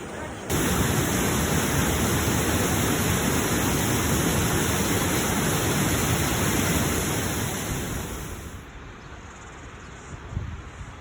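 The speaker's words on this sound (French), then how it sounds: "c'est quoi le nom du cascade? Wekere Falls. Wairere." Wairere Falls on the North Island of New Zealand, a steady, loud broadband roar of falling water that fades somewhat toward the end, with a brief voice near the close.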